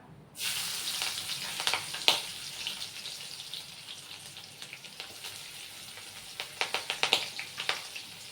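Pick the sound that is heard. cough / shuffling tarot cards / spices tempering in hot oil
spices tempering in hot oil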